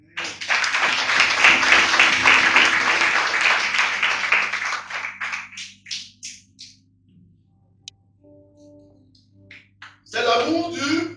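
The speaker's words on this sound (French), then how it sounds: "Acclamez pour vous-même." A church congregation applauding and cheering loudly for several seconds, then the applause thins into scattered claps before a short final burst.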